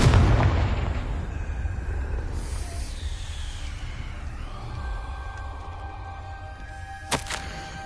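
A Confringo spell explosion in Hogwarts Legacy: a loud blast at the start that rumbles and fades into a long ringing tail, with a short sharp burst near the end.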